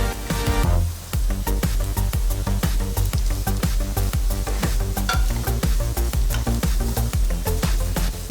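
Onions, green chillies, carrot and beans fry in a pan for egg noodles, a constant loud sizzle with rapid, rhythmic scrapes and taps of a spoon stirring throughout.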